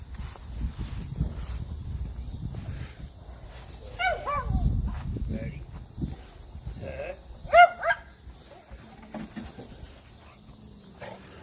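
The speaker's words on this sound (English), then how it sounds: "He's trying to sick his dogs after me." Dogs barking outdoors in a few scattered, moderately close bursts, with people talking in between and crickets audible in the background.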